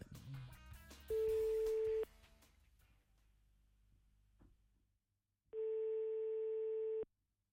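A telephone ringback tone heard while a radio station calls a contestant live on air: two long, steady electronic tones, each about a second and a half, separated by a pause, with studio sound and music fading beneath the first.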